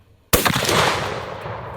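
A single loud .50 BMG rifle shot cracks out after a short quiet pause, then rolls into a long, booming reverberant tail that slowly fades.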